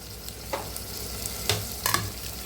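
Tomatoes frying in a pan for meal maker and tomato curry are stirred, giving a steady background sizzle with a few scraping stir strokes near the middle and end.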